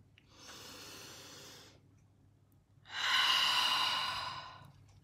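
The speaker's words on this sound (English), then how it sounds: "Taking a deep breath in." A slow, deep breath is drawn in through the nose and then let out in a longer, louder, airy exhale, close and alone.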